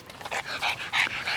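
A French bulldog puppy pants in quick, breathy bursts close by, a rapid rhythmic huffing that swells and fades over a second or so during play.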